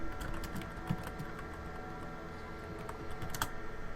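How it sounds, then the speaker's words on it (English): Fast, light clicking of typing on a computer keyboard during a Torchlight II playthrough, a quiet, irregular patter of keystrokes with occasional sharper taps, close and faint, no voices. "to convey information, and that sometimes requires typing"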